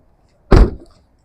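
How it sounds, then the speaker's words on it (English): Hood of a cheap used Ford Mustang popped open, a single loud close thunk with a short metallic rattle trailing off, alone. "Go repop the hood, do another walk around."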